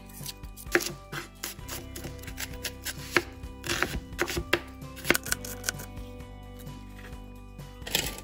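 Two medium onions chopped on a cutting board for Filipino seafood palabok: quick, irregular knife taps that click close and crisp, bunched into short bursts with brief pauses between.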